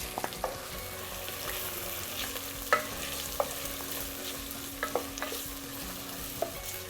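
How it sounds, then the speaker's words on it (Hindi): Sliced onions for mutton do pyaza fry in a pan with a continuous soft sizzle, punctuated by sharp spatula scrapes and clicks against the pan every second or so; no voices. "जब तक कि हमारी प्याज भुन रही है"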